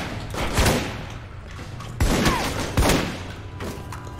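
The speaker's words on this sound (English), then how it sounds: "Shooting me now." Gunfire in the video game Alpha Protocol: several sharp, loud shots land at irregular intervals over a low background rumble, each one a sudden percussive crack.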